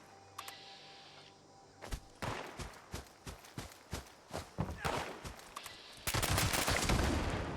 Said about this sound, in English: Shot the Mirelurk and Buddy's brains all over the place there